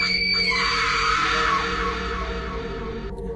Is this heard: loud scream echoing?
yes